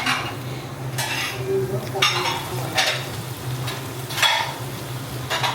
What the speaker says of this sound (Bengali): নিয়ে বেসনে চুবাচ্ছে, চুবাই এই যে তেলে ছাড়তেছে